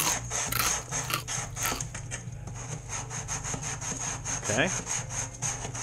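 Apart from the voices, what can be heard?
sanding wood surface with sandpaper on RC boat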